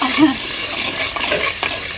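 Onion, green chili and tomato paste fry in a clay pot over a wood fire, with soft sizzling and a few scraping stirs at close range.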